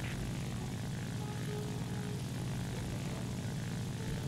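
Propeller drone of an IL-2 aircraft engine in War Thunder, a steady, fairly quiet hum with a faint tonal whine that holds level and has no talk over it.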